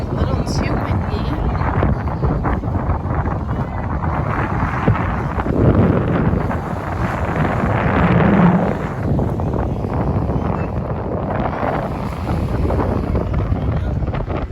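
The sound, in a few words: wind blowing on beach boardwalk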